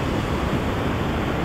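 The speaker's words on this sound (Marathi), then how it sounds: "पण पाणी वाहत आहे चांगलं." Knee-deep stream water rushes steadily during a crossing in the Sahyadri hills, a constant loud broadband wash with no voices over it.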